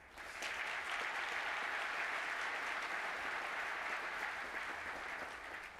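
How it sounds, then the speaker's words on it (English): Steady, even audience applause at a tech conference keynote about the etcd project, a continuous wash of clapping from a large crowd heard at a distance at low volume, with no voices over it. "I want to give them a quick round of applause"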